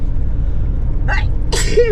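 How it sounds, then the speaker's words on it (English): A single loud sneeze with a short intake before it, close by, over a low engine rumble. "It was a big sneeze."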